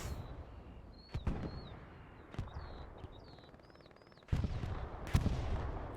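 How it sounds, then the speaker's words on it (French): Artillery fire in a war video game set around Kharkov: scattered sharp distant blasts and cracks over a steady battle din, with a heavier burst of impacts near the end and faint whistling tones above. "Artillerie qui tape sur le point fort."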